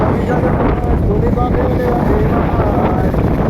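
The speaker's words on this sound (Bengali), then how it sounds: "খুব সুন্দর হাওয়া বইছে আজকে" Strong wind blows outdoors beside the water, buffeting the microphone with a loud, continuous roar that never lets up.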